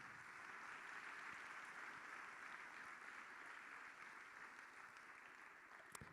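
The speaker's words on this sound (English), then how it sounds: "You can give a round of applause." Steady audience applause at a school awards ceremony, a dense continuous wash of clapping lasting the whole stretch at an even level, with no speech over it.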